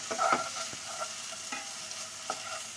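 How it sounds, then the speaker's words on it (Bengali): Chicken mince stirred and fried with onion in a pan, with a soft continuous sizzle broken by scraping spatula strokes at irregular intervals, close and without talk. "আর এখন দিচ্ছি এই যে চিকেন কিমাটা। এটা কিছুক্ষণ দিয়ে আগে নেড়ে দেবো"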